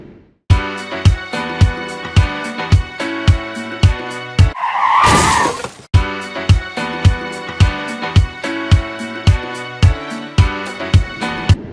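Dash cam footage of a car skidding and slamming into the rear of a truck: a loud, harsh burst of noise lasting over a second cuts through a steady run of repeated tonal beeps that continue before and after.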